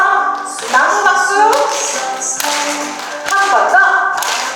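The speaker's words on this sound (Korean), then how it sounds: "저를 따라서 나무 박수" A group at a forest-healing program demonstration performs a clapping exercise, sharp hand claps and taps landing in short bursts while a voice leads and sings along over them.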